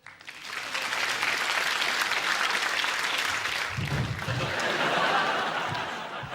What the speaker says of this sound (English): Nice round of applause from the audience.